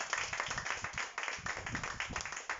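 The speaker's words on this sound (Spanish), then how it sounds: "Denle un aplauso, Señor." A church congregation claps together during a sermon, a quiet, steady patter of many hands heard from a distance, with no voices over it.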